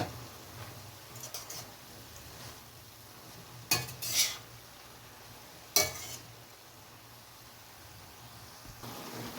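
Broccoli palya being stirred in a pan, soft scraping and light sizzling under a steady low hum, with a few sharper clinks of a utensil against the pan near the middle.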